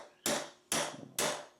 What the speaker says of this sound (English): then I just smack it down with a hammer